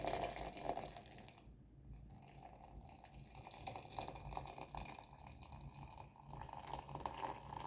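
Water pours steadily into a fruit infusion jar of raspberry, apple and lemon, a continuous faint splashing stream that eases briefly in the middle.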